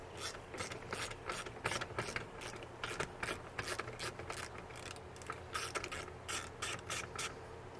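Repeated ratcheting clicks from a 2009+ Ford F-150 rear seat latch being worked loose, a steady run of close mechanical snaps with a low hum underneath and no talking.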